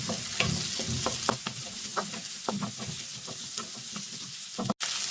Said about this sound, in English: Add 1 medium sized onion cut into cubes. Mix well.